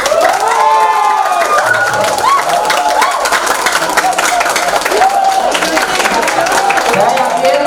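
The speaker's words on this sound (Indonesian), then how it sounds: "Coba minta tepuk tangan yang hanya jurusannya manajemen pemasaran." A crowd of students at a university field lecture event claps and cheers loudly, with shouts and whoops over continuous applause, lively and close throughout.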